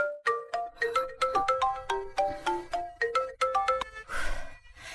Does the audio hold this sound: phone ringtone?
yes